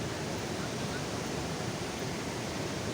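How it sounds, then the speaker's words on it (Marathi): Waterfall at Sahastrakund roaring as a steady, dense broadband rush that fills the scene without a break, loud and continuous with no distinct voices rising above it. "ते बघा इथं धबधबा चालू आहे इकडं पण मोठा धबधबा आहे"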